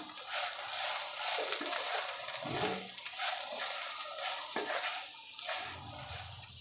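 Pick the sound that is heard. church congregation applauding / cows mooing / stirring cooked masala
stirring cooked masala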